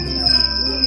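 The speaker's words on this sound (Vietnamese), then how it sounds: "Tiếng con dế." A cricket chirps continuously from a children's nature sound book, a steady, close, loud high-pitched trill with no voices over it.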